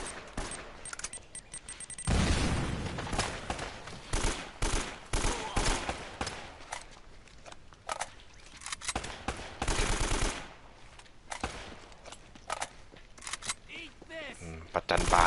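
Explosions and bursts of gunfire from Uncharted: Drake's Fortune, a loud blast near two seconds followed by rapid repeated shots and further booms through a dense, chaotic firefight, with a voice talking over the action.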